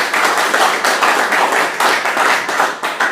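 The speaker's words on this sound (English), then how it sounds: "If you give them a round of applause" A crowd applauding, dense steady clapping throughout, fairly loud and close.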